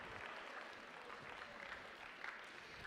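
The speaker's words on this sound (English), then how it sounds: "So give yourselves a nice big round of applause." A room of high school freshmen at a class meeting claps steadily in a faint, even patter of applause heard from a distance, with no voices over it.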